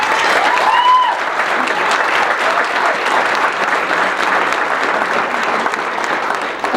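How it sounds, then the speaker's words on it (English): Steady, sustained applause from an awards ceremony audience, loud and dense throughout, with a few faint whistles or cheers rising above the clapping. "So we should give the whole chamber a round of applause."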